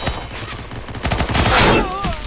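Rapid automatic gunfire in the Roblox shooter Arsenal, a dense burst of overlapping shots that swells in the middle, with a brief voice-like tone near the end.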